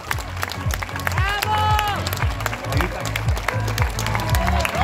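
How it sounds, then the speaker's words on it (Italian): Applause and clapping from spectators on the shore of Lake Como as the first swimmers finish the Mandello–Onno lake crossing race, sustained and fairly loud, with cheering voices and a whistle-like tone mixed in. "mamma mia quanti applausi"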